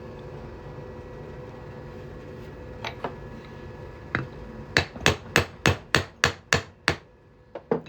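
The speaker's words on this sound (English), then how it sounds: "We're going to hammer that on through." Sharp metallic hammer strikes driving a punch through a silver coin: a few scattered taps, then a steady run of about nine evenly spaced, ringing blows, close and loud.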